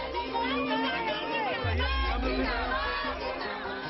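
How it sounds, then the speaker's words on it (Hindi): Congress party workers gather in a large crowd outside the party headquarters during a protest, a dense hubbub of many voices murmuring and calling out, steady and close, with a low rumble swelling midway. "आज जब सोनिया गांधी 10 जनपद से बाहर निकली तो वहां कांग्रेस कार्यकर्ताओं की काफी भीड़ थी।"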